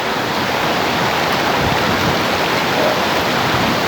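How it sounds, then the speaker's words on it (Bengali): Water rushing down a waterfall near Lolegaon, a loud, dense, unbroken roar heard up close with no voices. "এই দেখুন এই জল নেমে আসছে, নেমে এই বেরোচ্ছে"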